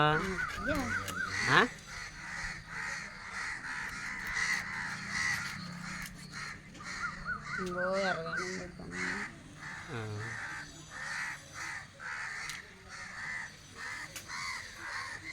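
Several crows caw repeatedly nearby, harsh calls coming in bursts while a person talks over them.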